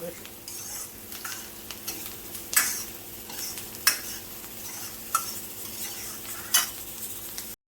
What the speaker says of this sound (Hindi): तो अब इन्हें मैं फ्राई कर लेती हूँ